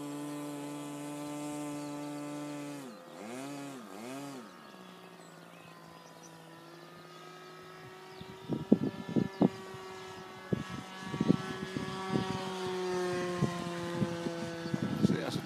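Engine of an Extra 260 model airplane flying inverted across the field, a steady droning whine that dips and wavers, with people talking over it and crackling bursts later.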